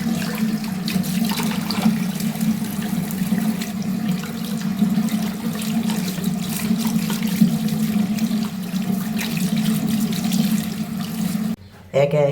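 Tap water running steadily and close by while aquarium power filter parts are washed, a constant rushing stream that stops briefly near the end.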